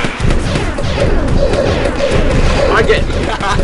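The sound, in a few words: fireworks weapon exploding in Pocket Tanks, from a video game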